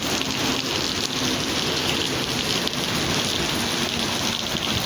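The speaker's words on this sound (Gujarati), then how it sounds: "વરસાદમાં આવી ગયો વરસાદ" Steady heavy rain pours down outdoors, a dense continuous hiss of drops striking surfaces that holds unbroken at an even, fairly loud level with no voices.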